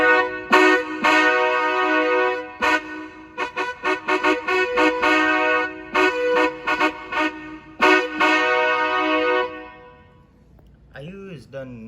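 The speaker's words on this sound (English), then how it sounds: "I'm gonna do a PVC train horn." A homemade PVC-pipe train horn gives a string of loud chordal blasts, some long and many short choppy toots, ending with a brief voice.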